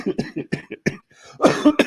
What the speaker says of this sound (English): that's the last of my flu cough, getting better every day